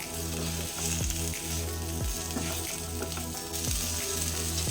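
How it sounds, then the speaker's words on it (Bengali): Fried okra mixed with potatoes and spices being stirred in a pan, a loud steady sizzle with repeated rhythmic spatula scrapes against the metal, close up and without voices. "এবার ভেজে রাখা ভেন্ডি দিয়ে দেব। সব কিছু খুব ভালো করে মিশিয়ে দেব।"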